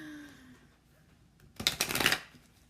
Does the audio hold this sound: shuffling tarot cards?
yes